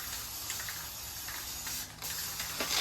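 Spray paint hissing from an aerosol can while coating the control box and frame of a Gemmy holiday light-show white tree trio under restoration; a steady, close broadband hiss with a few short breaks and bursts.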